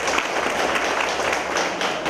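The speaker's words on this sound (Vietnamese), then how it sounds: "Xin cho các bạn cho chúng ta một tràng vỗ tay ạ" Steady wash of applause from an audience at an office anniversary celebration, dense and even throughout with no clear individual claps standing out.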